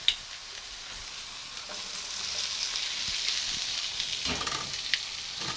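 Vegetables sizzle and fry in a hot pan for a vegan coconut teriyaki dish, a steady close crackling hiss with occasional stirring clatters and soft bumps, no voices.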